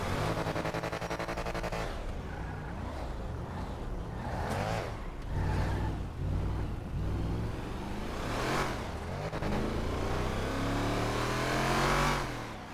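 A truck engine in a roleplay video game revs and accelerates steadily, loud and close, the pitch rising and falling in repeated pulls with no talk over it.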